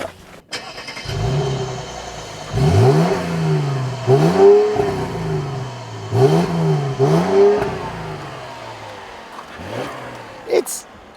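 A 2014 Mercedes-Benz E350 4Matic Coupe engine revs up in several repeated pulls, each rising and falling, fairly close and clear, with brief quiet gaps between bursts.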